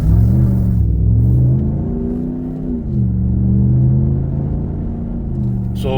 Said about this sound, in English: there's nothing keeping the wheels from spinning now